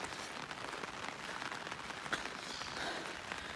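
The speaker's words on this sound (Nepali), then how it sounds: "साथीहरू पानी पर्यो" Rain falling in a village in Sindhupalchowk, a faint, even patter of drops on surfaces, continuous and unaccompanied by speech.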